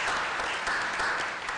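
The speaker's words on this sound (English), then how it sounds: "How about a round of applause for him?" A city council committee meeting audience gives a short round of applause, a dense wash of clapping hands heard at moderate level throughout.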